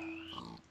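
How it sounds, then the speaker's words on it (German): A pig in the video game Minecraft gives a short grunting call with a steady tonal squeal-like pitch, close and clear, lasting under a second with no talking over it. "Das Schweinchen schlachten hier."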